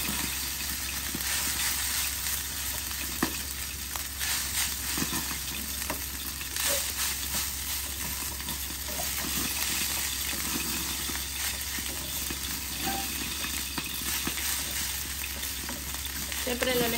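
Tilapia seasoned with salt and pepper is stirred in a hot pan, a steady close sizzle and frying crackle with scraping stir strokes running throughout.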